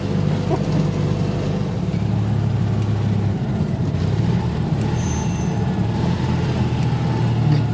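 A 1958 Citroen 2CV engine idles and revs with a steady low rumble, loud and continuous throughout, with faint rattles and background noise, heard from inside the car.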